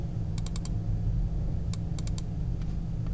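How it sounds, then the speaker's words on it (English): Crisp computer mouse clicks come in quick pairs and short bursts, sharp and close against a steady low hum, with no talking. "So just double click"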